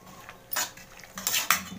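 Metal utensils clatter against a pan as chickpeas go into a vegetable kurma, two or three sharp close clinks with quiet gaps between them.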